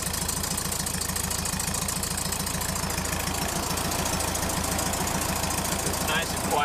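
A 1963 Volkswagen bus engine with a freshly welded, repaired exhaust idles steadily with an even, quiet rhythmic thrum, close and alone.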